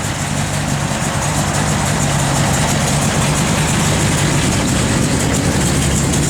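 A 1966 Chevrolet Chevelle convertible engine idles with a lumpy, choppy cam, a steady loud low rumble running alone throughout.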